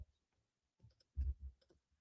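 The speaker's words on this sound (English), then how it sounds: "I am literally pounding the keys" Someone pounds hard on a computer keyboard, producing a few scattered clusters of faint clicking keystrokes in a quiet room with no talking.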